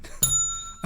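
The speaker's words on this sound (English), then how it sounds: "We haven't heard the bell in a while." A small bell gives two bright dings about half a second apart, the first ringing on with a long clear tone, the second struck louder near the end, with no talk.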